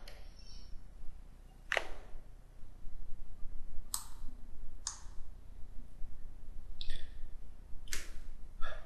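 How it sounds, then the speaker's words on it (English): A password is typed on a computer keyboard as sparse, separate clicks and taps, each one short and close, scattered over quiet room tone with no talking. "we just type in the password to secure that"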